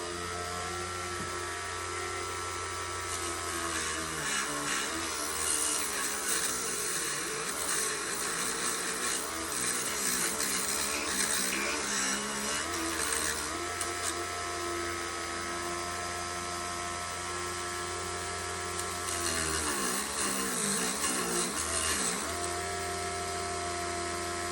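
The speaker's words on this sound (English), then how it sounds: "I'm going to use a Dremel tool to go and do a clean up individually" A Dremel rotary tool whines steadily as it cleans up rough entry holes in a Christmas lantern, a continuous high buzzing with pitch dips where the bit bears down, close and loud with no talk.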